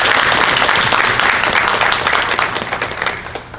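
Audience applause at a leadership conference, a dense burst of clapping that gradually thins and fades out.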